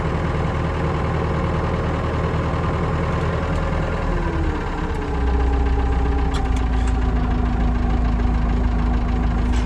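A tractor engine runs close by at a steady idle, a continuous low rumble with a slight knocking beat and a small shift in pitch partway through, with no talking.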